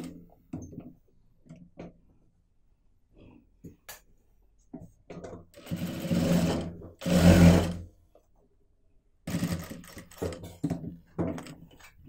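Home sewing machine stitching a doormat made from waste cloth strips, running in short bursts and one longer whirring run between pauses, with quiet handling clicks in the gaps and no talk.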